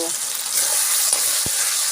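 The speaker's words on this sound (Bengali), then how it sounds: "সুন্দর করে আলুটাকে ভাজা ভাজা করে নিব।" Potato pieces frying in a pan for a Bengali greens-and-potato small-fish chorchori, giving a steady close sizzle throughout with a brief utensil knock near the end.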